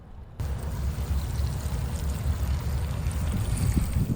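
Steady rushing wash of water with low rumbling, poured in a stream into a pot of young jackfruit for curry, continuous and fairly close.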